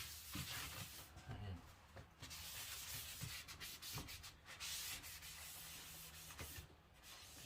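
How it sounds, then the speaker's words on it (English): A rag wipes finish liberally over a woodwork piece in a steady rubbing, swishing pattern with short pauses, close and moderately loud, while a person talks over it. "You just apply it in there and just liberally wipe it around."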